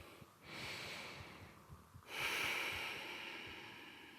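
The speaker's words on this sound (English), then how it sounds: "Take a deep breath here." Slow, deep breathing during an intermediate yoga class, two long airy breaths close to the mic, the second stronger and sustained, without talking.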